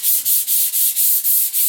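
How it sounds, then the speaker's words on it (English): A hand sands the console control panel of an older snowblower with quick, even back-and-forth strokes, about seven scratchy rasps in under two seconds, close and loud with no talk. "I'm just going to hand sand this area."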